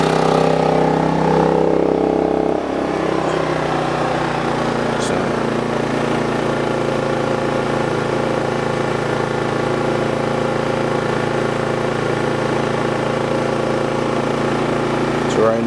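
A Sportsman GEN3500i inverter generator runs with no load in a confined space, giving a steady, fairly loud engine hum that settles into a lower, even drone after a few seconds.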